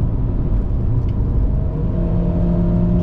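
A GAC GS3 B-segment SUV with a 1.5-litre naturally aspirated engine and 6-speed automatic, pulling hard uphill on the Genting climb; a loud, steady cabin drone with a rising engine note and road rumble, no voices.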